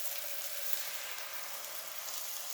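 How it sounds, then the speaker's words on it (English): Constant bright sizzling hiss of ground turkey and garlic frying in a pan after chicken broth is added, steady and close, with no voices. "Ooh, nice and sizzling."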